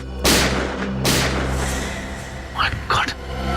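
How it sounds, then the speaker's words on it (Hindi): Two loud, sharp gunshots ring out about a second apart over a low steady hum in a crime drama scene, followed by a couple of brief voices. "ये गोली चलने की आवाज"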